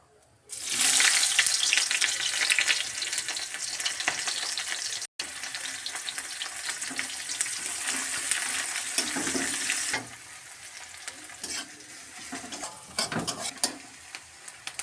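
Whole cumin seeds and onions fry in hot oil, a loud, steady sizzle that runs throughout with a brief cut near the start and a slight easing later, along with occasional stirring clinks.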